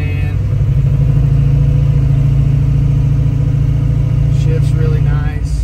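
A 1967 Shelby GT500 with the 427 V8 drives along with a steady, loud low engine rumble that holds even throughout, with no clear rev change, while someone speaks over it.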